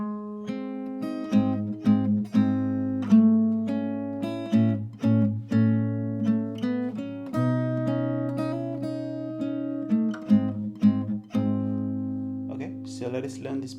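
A song played fingerstyle on guitar, a continuous flow of plucked melody notes over sustained low strings, close and fairly soft, with steady rhythmic picking throughout.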